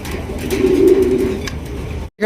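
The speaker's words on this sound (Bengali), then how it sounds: "একজোড়া কিং কবুতর খুবই সুন্দর খুবই কিউট" A pair of king pigeons coo in a soft, swelling call close by, one sustained coo peaking midway before fading, then a brief cut.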